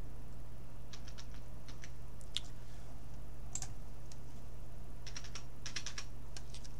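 Keys tap on a computer keyboard in short clustered bursts while zeros are entered during a gamepad setup on a PC, the clicks light and close over a constant low electrical hum.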